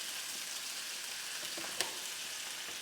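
Sardines frying in oil alongside dosa cooking on two stoves, a steady, even sizzle and crackle throughout with a small clink partway, no talking.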